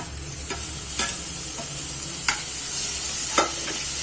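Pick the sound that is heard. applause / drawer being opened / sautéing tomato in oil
sautéing tomato in oil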